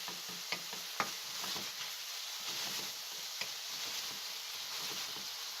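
Oyster mushrooms frying in a little oil over medium-low heat, a soft steady sizzle with small ticking pops and occasional sharper crackles, quiet and close with no talking.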